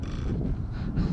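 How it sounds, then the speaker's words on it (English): Gusty wind buffeting an outdoor microphone while an RC Timber Turbo plane is flown, a steady low rumble that swells and dips throughout with no speech. "Oh, that wind."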